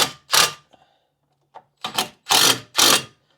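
Bolts on a Fiat's front brake caliper are run down with a power tool in short, loud buzzing bursts separated by pauses, close to the listener.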